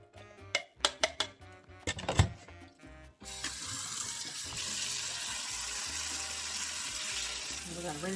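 Canned pinto beans clatter and knock into a sink, then tap water gushes steadily over them in a continuous close rush, rinsing them for chili.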